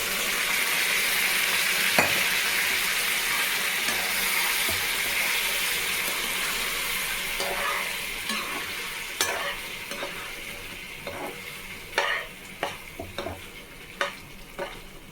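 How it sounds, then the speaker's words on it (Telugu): Food frying and being stirred in a pan, with onion to be added once it is well fried and gram flour mixed in; a steady close sizzle with sharp scraping stir strokes growing more frequent toward the end, no talking. "బాగా వేయించుకోవాలండి"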